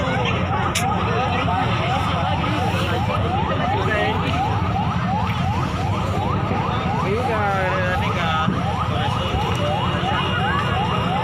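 Fire truck sirens wail in repeated rising-and-falling sweeps at a city fire in Gunungsitoli, Nias, North Sumatra, loud and fairly close over street noise and crowd chatter, with people talking throughout.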